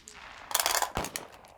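Dice rolled for a gunfire attack in the Dawn of the Zeds board game make a close, brief clatter: a rattling burst followed by a sharp knock as they land, then quiet.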